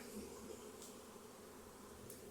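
A honey bee swarm clustered about 20 feet up, its loose bees flying off in a faint, steady buzzing drone with no gaps, heard at a distance against outdoor ambience.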